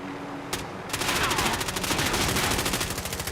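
Rapid automatic gunfire from a FARA-83 assault rifle in Call of Duty Warzone rattles in a dense, sustained burst after a single opening shot, loud and close with no talk over it.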